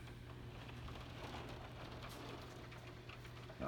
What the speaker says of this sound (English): it's thunderstorming and it wants to focus on the raindrops